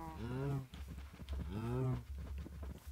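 Cows in Minecraft moo twice, two drawn-out, low, close bellows separated by a short pause, with a voice speaking faintly in between.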